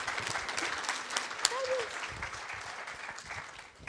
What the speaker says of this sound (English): Can I get you all to give a round of applause to these fabulous people?